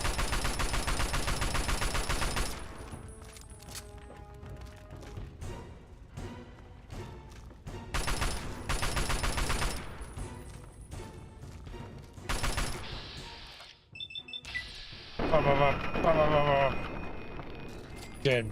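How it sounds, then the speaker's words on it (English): Bursts of automatic fire from a Chinese assault rifle in Fallout 3, loud rapid volleys broken by short pauses, with a voice talking during part of the shooting and metallic game effects near the end. "I do like the Chinese assault gun."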